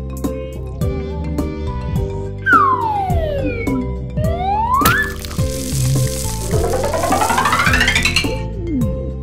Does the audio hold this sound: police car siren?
yes